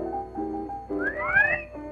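A single appreciative whistle at a concession stand selling hot dogs slides upward in pitch and then falls, short and clear over a soft tonal background.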